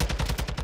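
Rapid repeated gunfire in Call of Duty, a burst of closely spaced shots with a regular rhythm, loud and near, with no talking.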